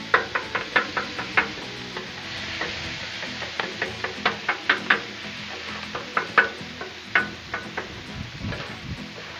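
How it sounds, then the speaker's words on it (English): A metal griddle scraper chops hamburger meat on a Blackstone griddle, a rapid series of sharp, close metallic knocks over a steady background sizzle. "a lot of times I'll use my scraper for something like this, like the hamburger meat. Kind of chop it up"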